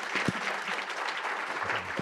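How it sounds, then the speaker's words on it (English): Applause from the audience at the Nordic Food Waste Summit 2023, a brief burst of steady mid-level clapping from a crowd lasting about two seconds, with no speech over it. "So a big round of applause for all of the 4 of you."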